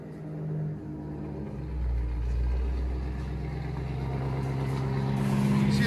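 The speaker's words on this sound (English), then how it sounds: "we just deleted the muffler. I'll let you guys hear it." A Ford F-150 with a 5.4L Triton V8 and its muffler deleted idles with a deep, steady exhaust rumble that swells slightly and holds, close and loud.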